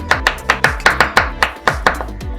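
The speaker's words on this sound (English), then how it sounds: "afterwards I have chopped strawberry and dark chocolate" A knife chops strawberries and dark chocolate on a cutting board in a kitchen, about a dozen crisp, evenly spaced thuds in a steady rhythm, close and alone.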